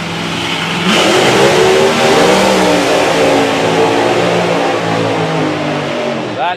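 Bob Hawkins' dragster engine roars on the drag strip, a loud sustained revving that climbs sharply after a second and holds at high pitch before cutting off at the end.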